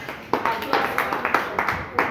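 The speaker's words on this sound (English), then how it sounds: "Please, a round of applause for us." A small class claps after a group presentation, a thin, close patter of a few hands with uneven beats across the clip, with no voices over it.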